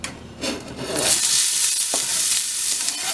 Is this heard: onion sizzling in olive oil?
yes